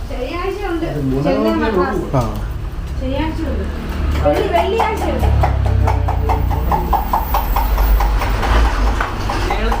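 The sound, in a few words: diesel train with double engine running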